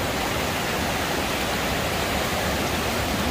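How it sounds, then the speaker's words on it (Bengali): Water rushing down a woodland waterfall stream near home in Italy, a dense, steady, close roar of flowing water without pause or voices. "এই যে পানিগুলো যাচ্ছে এদিক দিয়ে"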